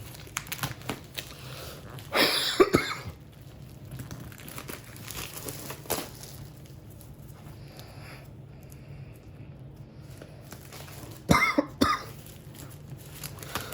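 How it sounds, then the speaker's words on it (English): A person with a slight cold coughs in a couple of sharp bursts, separated by quiet stretches with faint rustling and crinkling of board game packaging nearby. "just have a bit of a cough going on right now from a slight cold"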